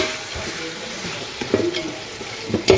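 Tomatoes with a little salt fry and are stirred in a pan, giving a soft, continuous sizzle broken by a few louder scraping stirs near the end.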